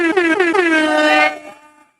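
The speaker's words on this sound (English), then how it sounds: "Let me get that man a fucking air horns" A loud air horn blares in three quick stuttering blasts, then holds one long note before cutting off abruptly.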